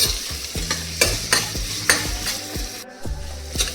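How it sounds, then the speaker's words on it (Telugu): Curry leaves and onions fry in a pan for South Indian tomato rice, a steady sizzle broken by regular scraping stirs roughly every half second, close and clear with no talk. "ఇది ఇలా మంచిగా ఫ్రై అయ్యేంత వరకు ఫ్రై చేసుకోవాలండి"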